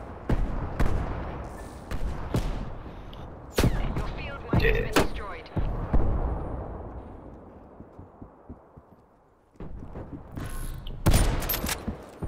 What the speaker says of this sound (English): The fucker has a sniper that just fucking keeps shooting me.